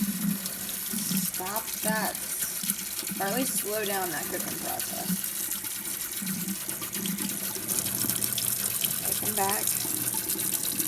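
Cold tap water gushes steadily over freshly cooked gluten-free noodles in a colander, a continuous close splashing stream throughout while someone talks over it.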